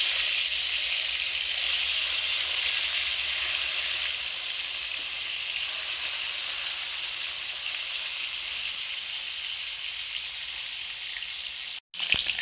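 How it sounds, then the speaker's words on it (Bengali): Pieces of shol fish fry in hot mustard oil in a pan, giving a steady, even sizzle and hiss that holds throughout before stopping abruptly near the end. "এখন আমি মাছ ভেজে নেব"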